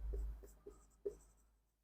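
Hand-writing numbers on paper for a maths lesson, with a few soft, short pen strokes and taps close by in a quiet room.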